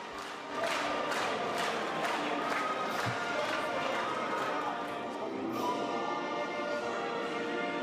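Parliament deputies in Ukraine applaud and cheer the adoption of the new Constitution in June 1996, a dense, steady roar of clapping and crowd noise sustained throughout, with a swell near the start.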